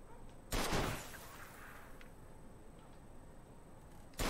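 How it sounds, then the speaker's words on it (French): Gunshots aimed at the tires of an old wrecked car in Mafia 2: two loud, close, isolated shots, one near the start and one at the end, separated by a quiet stretch of low background hum. "Tirer dans les pneus."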